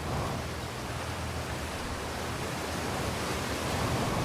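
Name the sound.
waterfall rushing in the video game Outer Wilds VR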